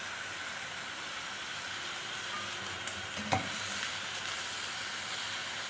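Okra and meat sauté in a pan with a steady, hissing sizzle that stays even throughout. One brief utensil knock sounds near the middle, close and moderate.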